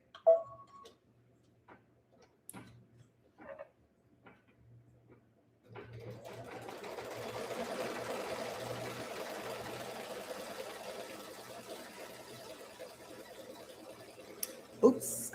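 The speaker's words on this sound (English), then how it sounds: "now what we're gonna do is stitch the batting down with a tack down stitch" A domestic sewing machine runs a tack-down stitch through quilt batting, a steady mechanical whirring that starts about six seconds in and holds for roughly nine seconds, preceded by scattered soft clicks and handling taps.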